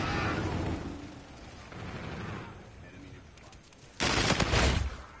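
Shotgun blasts in a first-person shooter video game, heavy booming reports with a loud close burst near the end, under and between a player's talking.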